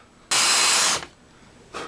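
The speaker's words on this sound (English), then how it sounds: "you're going to take your 3/8 countersink bit and start drilling these out" A power drill fitted with a 3/8 countersink bit bores into a snowboard being converted to a splitboard. It gives one loud, close whir of about two-thirds of a second, then a quieter short burst.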